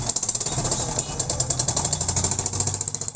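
A Honda XRM 110 motorcycle engine, being troubleshot for a lack of electrical power, idles with a steady, fast rhythmic chugging of exhaust pulses that stays close and fairly loud throughout.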